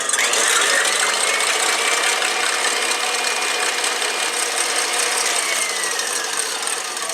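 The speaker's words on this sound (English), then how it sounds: "Now I'm ready to mix this, beat this on high until I get stiff peaks." Electric mixer whipping on high speed to stiff peaks for snickerdoodle cupcakes, a steady, loud motor whir with a bright, even hum that holds continuously close by, no talking over it.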